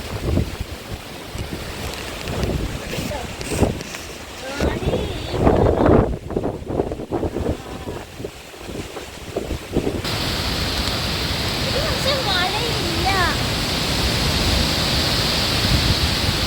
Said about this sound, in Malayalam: മഴയില്ല ഭയങ്കര കാറ്റാണ്